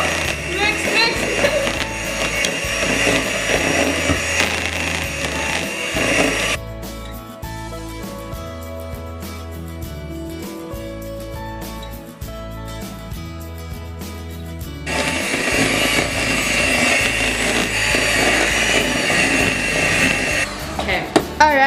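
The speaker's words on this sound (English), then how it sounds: "it says to mix on high speed for 2 minutes" Electric mixer beating cupcake batter on high speed, a steady droning whir that drops to a lower tone midway before rising again, close by with people chatting over it.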